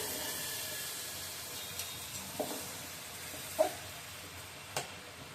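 Rice being stirred and mixed in a pan while preparing pulao, a faint steady sizzle with a few soft scraping knocks of the spoon scattered through, no voices.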